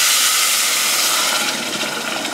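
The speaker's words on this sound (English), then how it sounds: "We place our 400 millilitres of boiling water" A loud, continuous rush of 400 millilitres of boiling water pouring into a pan of curried rice, a broad hissing splash that fades slightly toward the end.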